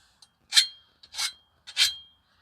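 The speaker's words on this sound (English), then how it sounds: "Then all you need to do is hit the file. First of all, get rid of the burrs," A metal file is drawn across a lawn mower blade to remove burrs, giving three distinct rasping strokes about half a second apart, each a short scraping burst, close and clear against quiet.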